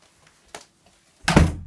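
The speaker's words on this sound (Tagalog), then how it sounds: "Sarang pinto." A door is pushed shut with a solid thunk, preceded by a small knock or bump, the closing impact loud and close in an otherwise quiet room.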